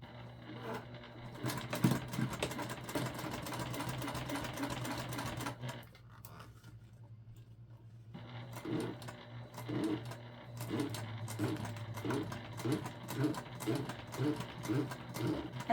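A sewing machine top stitches a travel pouch in bursts of rapid needle clatter. The clatter breaks off briefly and then starts again, and a faint steady hum sits underneath.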